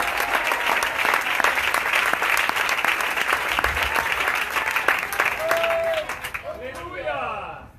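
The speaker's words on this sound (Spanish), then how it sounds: "Para Dios es ese aplauso, déselo fuerte." A church congregation at an evangelistic gathering bursts into sustained applause, many hands clapping densely for several seconds before tapering off near the end, with voices speaking over and after it.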